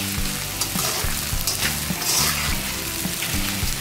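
Sabudana khichdi with grated coconut and coriander is stirred in a hot pan, with a steady frying sizzle and repeated spoon scrapes against the pan. The sounds are close and clear, and nobody speaks.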